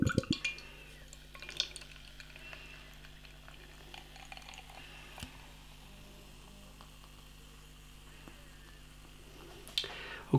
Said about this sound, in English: Should we get the can out into a glass and see what we get?